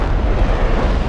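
Tank cannon fire from an Arma 3 sound mod, a heavy rumbling roar that fills the whole short stretch at high level, dense and sustained with no quiet gaps.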